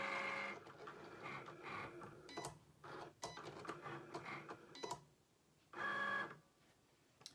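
A Cricut cutting machine cuts vinyl for a shirt, giving quiet whirring and buzzing bursts of carriage movement, with short pauses and clicks between strokes and a louder run near the end.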